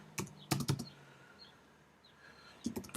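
Short bursts of keystrokes on a computer keyboard, close and quiet, with a pause of near silence between clusters at the start and end.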